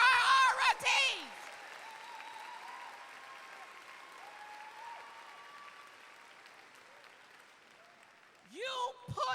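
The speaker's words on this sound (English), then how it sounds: "Audience, let's give them a Texas-sized round of applause" A high school graduation audience gives a sustained, steady round of applause that fills the hall, with a speaker's voice briefly heard just before and right after the clapping.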